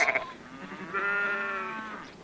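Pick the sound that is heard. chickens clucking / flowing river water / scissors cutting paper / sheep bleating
sheep bleating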